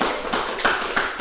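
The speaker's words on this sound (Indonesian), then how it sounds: "tepuk tangan buat semuanya" A classroom applauding during a microteaching lesson: a quick burst of several claps, each fairly loud and sharp, spread across a moment without talk.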